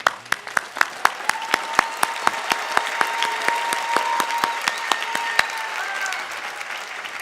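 Applause at a university commencement ceremony: scattered, distinct hand claps at first that build into steady, sustained clapping from a large crowd, heard fairly close and alone.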